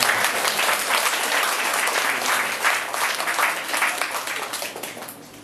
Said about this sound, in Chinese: 那大家热烈掌声欢迎。